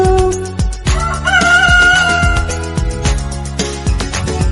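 A rooster crows among bright, rhythmic music in a Hindi children's rhyme, the call rising loud over repeated beats and tones.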